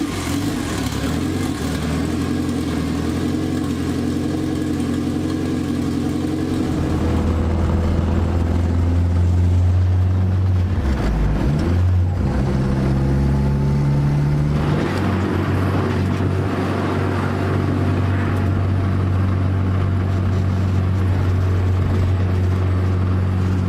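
Honda Civic EK engine idling in a shop, a steady close low rumble that holds through the whole stretch, with a brief rise and dip in pitch partway through and no talk.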